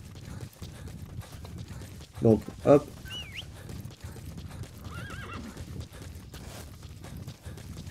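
Horse in Metal Gear Solid 5 arriving when called: steady clip-clopping hooves with two loud whinnying neighs, plus brief speech in the clip.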